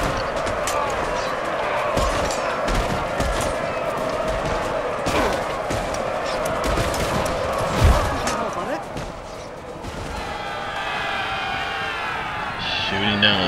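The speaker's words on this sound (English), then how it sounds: "Shooting down on me" Musket gunfire in the Empire: Total War strategy game, with many irregular sharp shots crackling over a busy battle din and someone talking over it.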